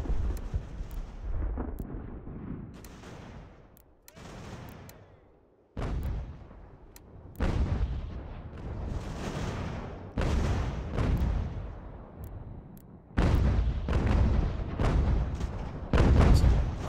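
Mortar fire in Ultimate General: American Revolution, heavy booming blasts recurring at irregular intervals, with each deep thump followed by a rumbling decay and growing louder toward the end.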